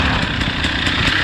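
A Honda four-stroke dirt bike runs flat out during a time trial, its loud, close engine drone rough and continuous with slight pulsing and no talking over it.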